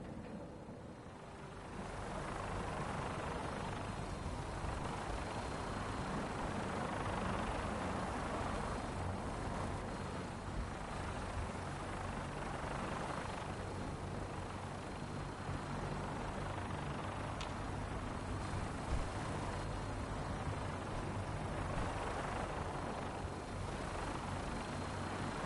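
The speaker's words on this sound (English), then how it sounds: "we have a vertibird on standby, fully armed and ready to depart" A Vertibird gunship in Fallout 4 gives a continuous rotor drone and engine rumble throughout, with a steady whooshing pulse that neither rises nor fades.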